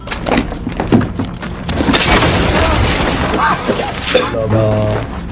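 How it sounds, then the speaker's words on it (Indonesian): A bomb trap planted by ISIS explodes in a war film, a loud, heavy rumbling blast with crackling debris that swells and lingers for a few seconds, mixed with voices and other battle sounds. "ternyata ISIS sudah memasang jebakan bom"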